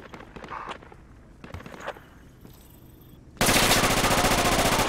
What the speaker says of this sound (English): I got shot while trying to check my map for you, Vader.